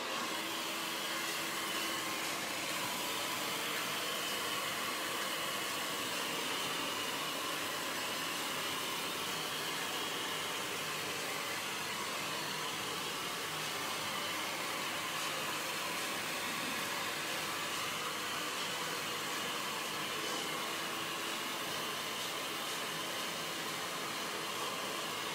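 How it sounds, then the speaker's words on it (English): A hair dryer blows continuously on hair in a barbershop, a steady close whooshing roar that holds even and loud throughout with no talking over it. "But I'm going to dry it."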